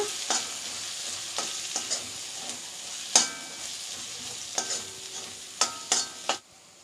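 A spoon scrapes and stirs spices for black chana masala in a pan with a light sizzle underneath, several sharp clinks spaced irregularly, close and fairly quiet.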